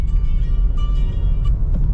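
A new Honda WR-V car cruising on a highway, its steady road and engine rumble filling the cabin continuously and loudly, with no talk.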